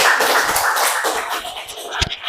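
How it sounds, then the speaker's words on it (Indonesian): A class group of students gives a short burst of applause for the first presenting group, dense hand clapping that fills the room briefly, with faint voices mixed in. "Tepuk tangan untuk kelompok 1"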